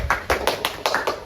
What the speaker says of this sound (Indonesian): Tolong tepuk tangannya.